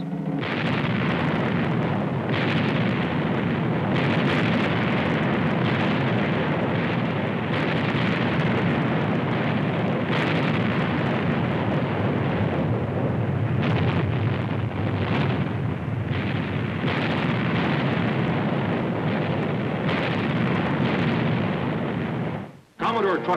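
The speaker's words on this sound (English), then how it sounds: "For 5 hours, she exchanged broadsides with the heavier gun Vengeance." Broadsides from the frigates Constellation and the heavier-gunned Vengeance in 1800, heard as continuous, booming cannon fire and rumbling blasts that roll on loudly for most of the stretch before cutting out abruptly, with narration over it.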